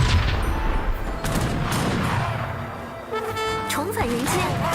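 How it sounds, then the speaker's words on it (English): Cannon fire in an Age of Empires 3 Definitive Edition match: booming blasts mixed with battle noise and game effects, with a commentator talking over the action. "Good cannon blast on this side."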